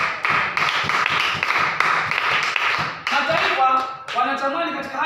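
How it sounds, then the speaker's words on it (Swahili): A church congregation claps together at a Thursday service, quick overlapping hand claps in bursts with voices talking and singing over them. "Pigia Bwana Yesu tuzo makofi."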